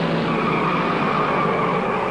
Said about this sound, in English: A car's into the wall.